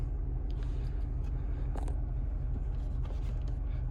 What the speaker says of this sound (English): Sounds lovely, doesn't sound like a diesel when you're driving it.